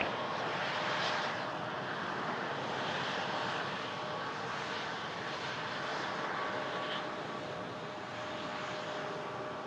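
An airliner taking off from runway 15 left at Toronto Pearson airport, a steady broadband engine roar that holds at a fairly constant loudness throughout, continuous and without pauses.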